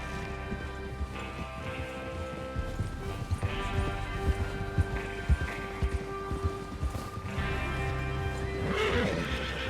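In Red Dead Redemption 2, horses whinny and snort while hooves clop and thud nearby as a gang rides out, several animals moving together over a steady low rumble.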